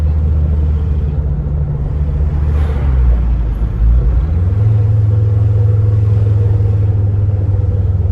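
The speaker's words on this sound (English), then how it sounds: "This should do a little bit of burbly noises for you in a minute." A warm Ford Focus ST 225 idles with a steady, deep engine rumble and a low exhaust drone that dips and shifts slightly midway, loud and close with no talk.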